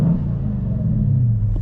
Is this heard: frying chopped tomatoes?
no